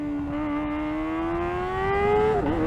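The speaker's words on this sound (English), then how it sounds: "Absolutely amazing engine." A 2024 Kawasaki Ninja ZX-4RR four-cylinder engine runs at full throttle, its loud, close, high whine climbing steadily in pitch before a brief dip as it shifts gear near the end.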